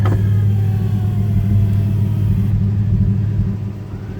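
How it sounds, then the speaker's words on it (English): A 1970 Dodge Charger R/T drives up with a steady, deep engine rumble close by. The engine holds an even note throughout and eases slightly near the end, with no talking. "I'm going to let the owner drive up here"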